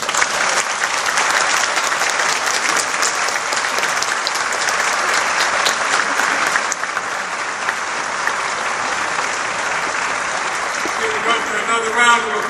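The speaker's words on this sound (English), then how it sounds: "Another round of applause, please." A crowd at a medical school commencement breaks into loud, sustained applause, a dense wash of clapping that stays strong throughout and thins slightly near the end, with faint voices underneath.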